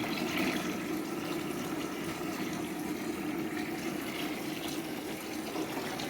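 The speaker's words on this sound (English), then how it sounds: "And then you just fill your buckets up until you're done." Water pours steadily from a barn faucet fed by a water heater into buckets, a continuous rushing, filling sound at close range with no talk.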